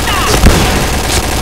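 Dense, loud bursts of gunfire and a grenade blast in the shooter game Point Blank, packed into a short harsh barrage with a player's voice shouting over it.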